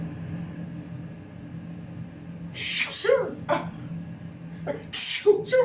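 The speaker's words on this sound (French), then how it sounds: "Pardon, j'éternue." A person sneezes sharply at close range in a home kitchen where a kougelhopf is being baked, with two abrupt bursts over a low steady hum, mixed with brief voiced sounds.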